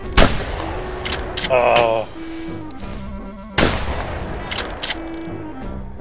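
Gunshots fired in the hunting video game theHunter: Primal, with two loud sharp blasts several seconds apart, each followed by a fading tail, mixed with excited voices and game ambience.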